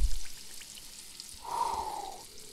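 Trout and pickles deep frying in hot oil outdoors by a river, a soft steady sizzle that swells louder for about a second near the end, with no talking.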